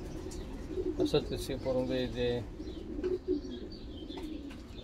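Racing marathon pigeons in a loft give soft, low cooing phrases close by, with a brief flutter and faint chirps, while someone talks calmly over them.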